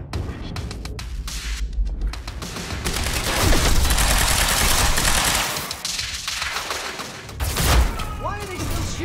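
Rapid bursts of automatic gunfire and scattered shots crackle through a Quantum Break library chase, loud and continuous with booming impacts, while voices talk over the firefight.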